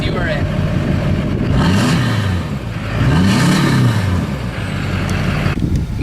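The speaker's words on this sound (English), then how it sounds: "This is an exhaust that has been modified. It is sometimes too loud for the conditions or the place you are in." An engine with a modified exhaust revs loudly and close, with two rising-and-falling rev cycles over a constant rumbling idle.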